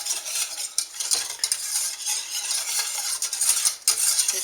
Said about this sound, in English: if you keep stirring, it's starting to thicken up just a bit